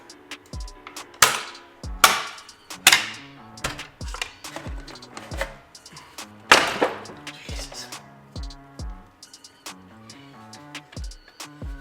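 A flathead screwdriver pries plastic clips off the intake cover of a BMW F30 with the B58 engine, giving a series of sharp snaps and clicks, close and irregular, among lighter tool taps.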